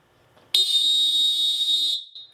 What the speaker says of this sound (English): you give a nice, long, hard whistle to let everybody know we're starting the match right now